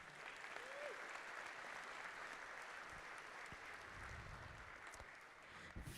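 Sustained applause from a crowd at a miniature painting competition awards ceremony, a steady dense wash of clapping holding level for the whole stretch with a faint voice murmuring briefly underneath.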